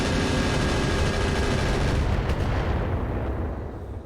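Heavy weapons fire pounds a mech in the RogueTech battle game, a dense continuous barrage of loud blasts and explosions that fades out over the last second.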